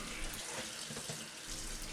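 Cold tap water pours steadily from a kitchen faucet over cooked carrots to cool them, a continuous close rush of running water with no talking.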